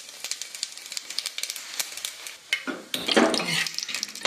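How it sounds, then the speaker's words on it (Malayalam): Whole spices such as cardamom, pepper, cinnamon, cloves and fennel frying in coconut oil with a little ghee, close and sizzling, with scattered clinks and scrapes of a stirring spoon. "ഇത് വറക്കണ വെളിച്ചെണ്ണയിലാണ്"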